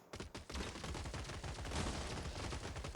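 Shotguns firing in the robot strategy video game Gladiabots, a dense, continuous volley of overlapping blasts that barely lets up, fairly quiet overall, with no voices.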